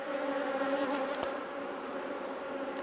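Honey bees buzzing in and around a national beehive, a smaller hive size, a steady, close hum with a brief sharp tick partway through.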